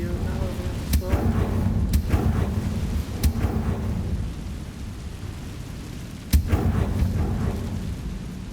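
Bombarda and Confringo spell blasts in the Hogwarts Legacy video game: several sharp booming bursts with rumbling tails, spaced a second or more apart, over a steady dense background, with a voice at times.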